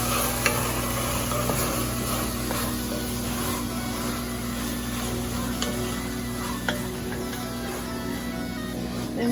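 A spoon stirs Italian seasoning into a pot of ravioli soup over medium heat, giving quiet scraping and light clinks over a gentle simmering hiss and a steady low hum, with no talk.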